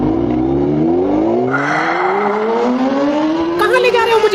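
Cartoon Honda motorbike engine starting up and revving, a loud, steadily rising whine as it pulls away and speeds up, with a brief whooshing swell partway through.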